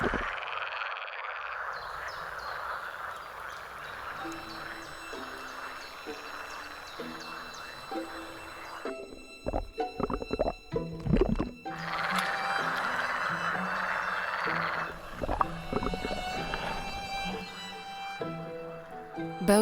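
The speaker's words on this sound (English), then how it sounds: "The croaking of male pool frogs resounds around the area." Male pool frogs in a wetland chorus, many overlapping croaks and rapid rattling calls at close and middle range, continuous and loud with shifting bursts of intensity.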